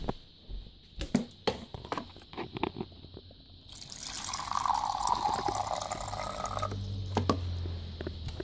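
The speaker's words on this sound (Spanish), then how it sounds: "Le vamos a echarle el agua." Water is poured into a toy container to make pretend milk during children's play, a gurgling stream that runs for a few seconds after scattered clicks and knocks of handling.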